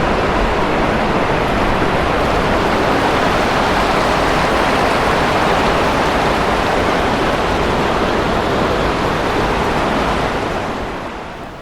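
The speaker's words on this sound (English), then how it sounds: "it just started to rain heavily" Heavy rain pours down at the Mount Slamet base camp in Indonesia, a dense, steady roar that fills the whole scene without pause and eases slightly at the very end.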